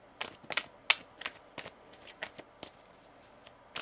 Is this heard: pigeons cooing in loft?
no